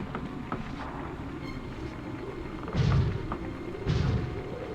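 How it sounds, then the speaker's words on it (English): Two deep, booming cannon blasts from the video game MediEvil, a second or so apart, over a constant windy background rumble. "Yeah, set fire to the cannons."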